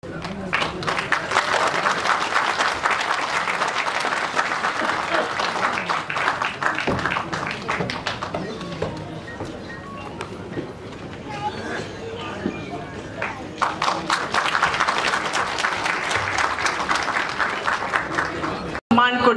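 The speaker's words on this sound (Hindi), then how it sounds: "एक बार जोरदार तालियों से स्वागत करें उनका" An audience at a Kajri festival applauds loudly to welcome a minister. The dense clapping comes in two strong waves with a softer stretch between them, then cuts off sharply at the end.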